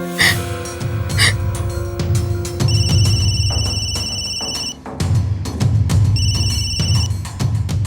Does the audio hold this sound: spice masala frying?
no